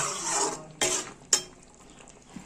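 A utensil stirs chickpea curry (chola) in a pan, giving a soft continuous scraping sizzle marked by two sharp metallic scrapes close to the mic.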